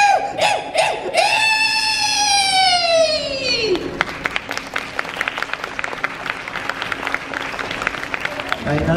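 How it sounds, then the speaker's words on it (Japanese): Scattered, half-hearted applause from a theme-park show audience at Universal Studios Japan, sharp claps building in the second half after a long sliding tonal sweep, with a performer's voice over the start. "なんとなくの拍手ありがとうございます"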